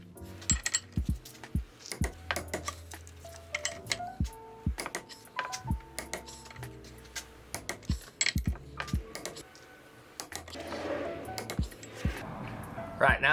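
Ring gear bolts on an AE86 SR5 differential fitted with a Weir Performance spool are torqued, giving sharp metallic clicks and clinks at an irregular pace with brief ratcheting, close by, under occasional talk.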